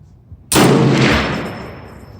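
A single loud .450 Bushmaster rifle shot fired at a 100-yard range, a sharp sudden crack followed by a broad booming decay that rings out for over a second with no voices.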